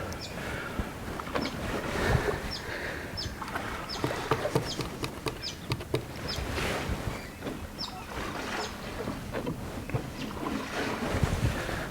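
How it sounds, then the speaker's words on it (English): Gentle waves from a powerboat's wake lapping along an Australian shoreline, steady soft splashing and washing with light wind, close and continuous, with no talking. "Gentle little waves coming in from the powerboat."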